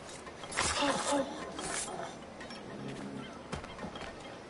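Birds honk in the Assassin's Creed Freedom Cry game, a few goose-like calls in a short burst amid steady background game ambience.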